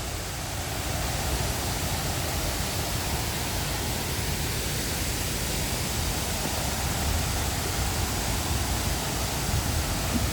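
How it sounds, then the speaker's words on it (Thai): A small waterfall near the ruins of an old water turbine once used for milling rice rushes steadily and evenly, a close, constant broadband wash with no voices. "เป็นน้ำตกเล็กๆนะครับ"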